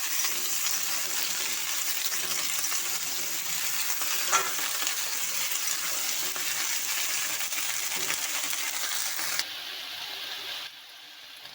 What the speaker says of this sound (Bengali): লবণ আর হলুদ দিয়ে এটাকে দুই মিনিটের মতো আমি বাজা করে নিচ্ছি